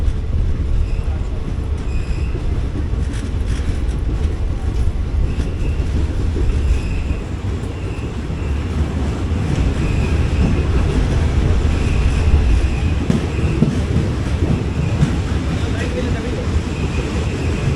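Passenger train setting off, heard from inside a sleeper berth: a steady low rumble of wheels and carriage noise with faint rail clatter, continuous and fairly loud throughout.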